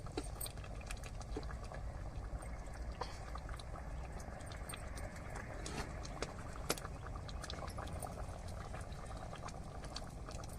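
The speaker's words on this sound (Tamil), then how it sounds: "நல்லா வேகட்டும் நல்லா கொதிச்சு எண்ணெயெல்லாம் பிரிஞ்சு வத்தி வரும் பாருங்க" A pot of curry with mint and coriander leaves simmers at a rolling boil until the oil separates, giving a faint, continuous bubbling and popping patter that is steady throughout, with no speech.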